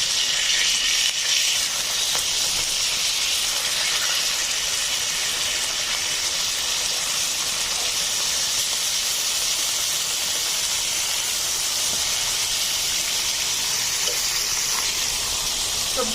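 Rohu fish patori wrapped in tender gourd leaves with lemon-leaf flavour frying in a pan, giving a steady, continuous hiss and sizzle that holds evenly throughout with no talking.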